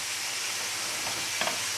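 Bacon sizzles steadily with water bubbling in an all-in-one cooking pan, a continuous crackling hiss with a couple of sharp pops near the end.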